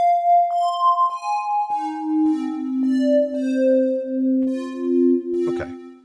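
A clean triangle-wave synthesizer tone steps through a descending sequence of pitches, smooth and hollow, played alone with no voices.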